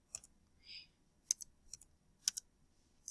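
Faint, sparse keystrokes on a computer keyboard, a handful of separate clicks with short gaps between them, close but quiet, with no voices.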